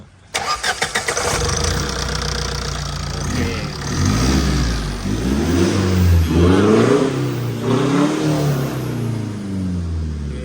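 A TATA diesel engine cranks with a quick rattle, catches, then revs up and down repeatedly during an injector test, loud and close, with a heavy clattering rumble throughout.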